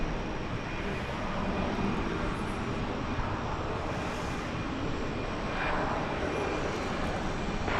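An American Airlines jet airliner at DFW Airport produces a steady, broadband engine roar that stays constant throughout, heard from a moderate distance with no talking.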